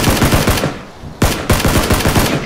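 Rapid automatic gunfire in the PUBG battle royale game rattles out in loud, close bursts, with a brief lull before the shots resume.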